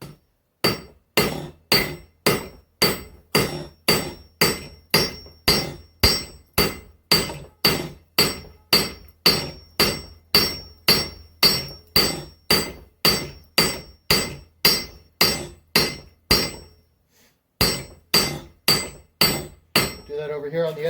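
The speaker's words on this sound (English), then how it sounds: "Do that over here on the edge of the anvil so that I can hit past the metal." An axe edge is hammered on the edge of an anvil during forging, with dozens of loud, evenly spaced ringing strikes in a steady rhythm, a brief pause near the end, then a few more blows.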